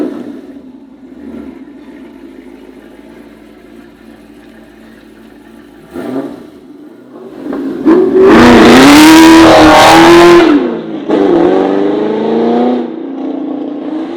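Chevrolet Camaro SS on a test drive: a low idle rumble gives way to a loud roar as the engine revs hard and accelerates, pitch climbing, then drops back to a steady, strong drone.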